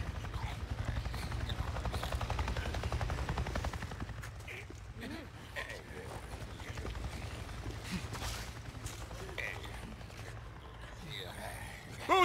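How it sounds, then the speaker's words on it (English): A Nero helicopter in the video game Days Gone on PC passes overhead as a low, steady rotor rumble with rapid chopping pulses that fills the scene and gradually eases off. "I just saw a goddamn chopper! A chopper? What are you talking about? A Nero chopper! It just buzzed right over me."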